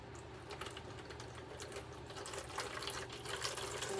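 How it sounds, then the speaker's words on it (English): Distilled, purified water pours into a recycled plastic water bottle planter, a steady close trickle and splash that swells slightly louder toward the end, with no talking. "Distilled, purified water, I should say. I'm going to go ahead and add some in here."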